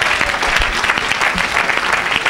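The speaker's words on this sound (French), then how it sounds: "Acclame pour Jésus." A church congregation applauds together, a loud, dense burst of clapping close by that holds steady for a couple of seconds.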